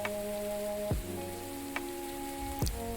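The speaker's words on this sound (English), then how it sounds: "Just looking up, just looking at the clouds, listening to that rain." Steady patter of rain falls in a VR fishing game, a continuous even wash with a few brief sharper clicks and tones layered over it, no one speaking.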